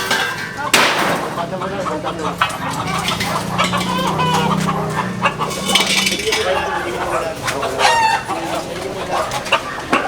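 Roosters crow and chickens cluck from many cages at a cockpit-style fighting-cock holding area, overlapping densely with metallic clinks, while people talk nearby.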